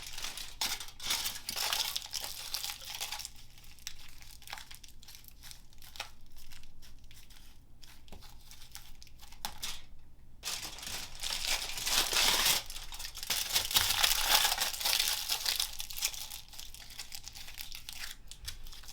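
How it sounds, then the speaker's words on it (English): Aluminum foil is crumpled, crinkled and squeezed by hand while shaping a sculpture armature, a steady close-up crackling texture with a brief pause midway before louder bursts of rustling resume. "So I'm going to grab some more foil since I started with a shorter sheet."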